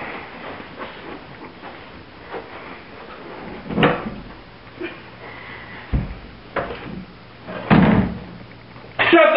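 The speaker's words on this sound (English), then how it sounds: "Shut the door!" Several thumps and bangs of a door slamming shut in an office, irregular and fairly close, the loudest hits near the middle and end, with faint background noise between.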